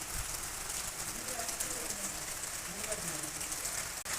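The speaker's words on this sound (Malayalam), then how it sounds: "ഇന്ന് നല്ല മഴയുള്ളൊരു ദിവസമാണ്" Steady rain patters down in a dense, even hiss, with a faint voice murmuring underneath.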